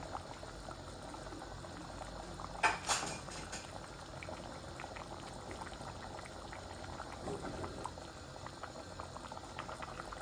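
A pot of chicken and potato curry bubbles at a steady low boil, soft gurgling throughout, with a brief clink of a utensil early on.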